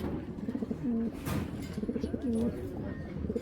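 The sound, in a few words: racer pigeons cooing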